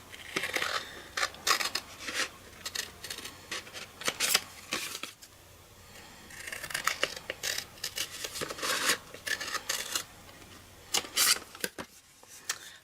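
Scissors cut through a scored paper greeting card in quiet repeated snips and crisp rustles, close and faint, in irregular bursts with short pauses.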